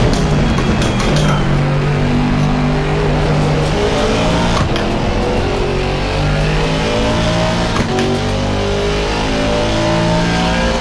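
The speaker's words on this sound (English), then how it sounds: "you had a raspy sound of the engine" A race car engine in the racing game Assetto Corsa Competizione roars loudly and continuously, with a raspy, buzzing tone as it revs up and down.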